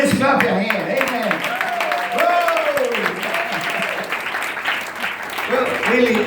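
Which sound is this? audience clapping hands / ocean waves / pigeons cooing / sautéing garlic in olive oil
audience clapping hands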